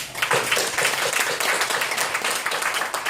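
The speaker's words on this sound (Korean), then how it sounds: "사장님 위해서 한번 격려 박수 합시다." Applause at a Korean church service marking a mission broadcasting anniversary, a dense steady crowd clapping that fills the whole stretch at fairly close range, with no talk over it.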